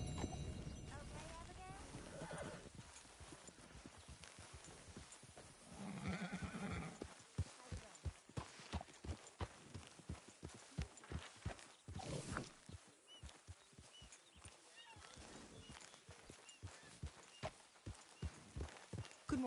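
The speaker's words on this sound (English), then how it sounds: "You know you're not supposed to have that horse in camp." Horse in Red Dead Redemption 2 whinnies near the start, then its hooves clip-clop in a steady walking rhythm through most of the clip, fairly quiet overall with some game ambience.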